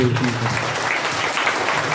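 Applause from a gathered audience honoring a guru at a community talk in Ghaghra, Gumla district, a steady clapping wash under a speaking voice over two seconds.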